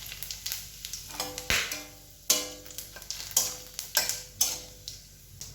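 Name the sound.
whole cumin, dried chili and bay leaf sizzling in hot oil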